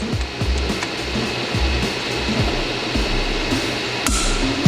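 An electric torque driver tightens machining inserts on a pipe, giving a close steady whirring buzz broken by a few short clicks and a sharper click near the end.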